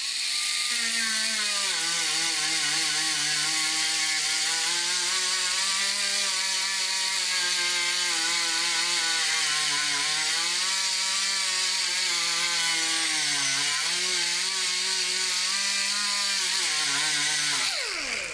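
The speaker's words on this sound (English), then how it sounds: "I get myself my angle grinder with 36 grit sandpaper, sand around it" An angle grinder with a 36-grit sanding disc works over a car body, a loud continuous motor whine that rises and dips in pitch under load for the whole stretch, then cuts off at the end.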